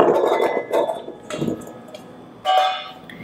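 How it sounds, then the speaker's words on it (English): Cubed butternut squash is tossed with spice paste in a bowl, producing a few soft wet shuffles and light clinks against the bowl, close and brief with short pauses between bursts. "Just toss it until the cubes are nicely coated with the spice mixture"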